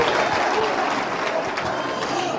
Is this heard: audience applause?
yes